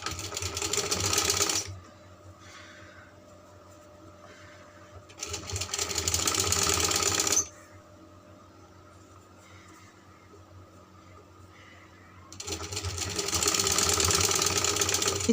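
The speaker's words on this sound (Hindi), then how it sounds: "इस तरह से सारे मोटिफ हम स्टिच कर लेंगे।" Sewing machine stitching fabric motifs onto paper in three loud bursts of rapid mechanical clatter separated by quieter pauses, close to the listener, with no speech.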